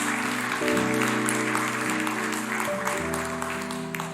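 A church congregation applauds through sustained chords of keyboard music, a dense, steady clapping that slowly fades toward the end.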